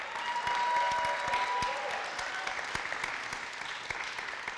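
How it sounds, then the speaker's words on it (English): Audience applause at a poetry reading, a steady wash of clapping from a modest crowd that holds strong and then gradually thins. "give a round of applause."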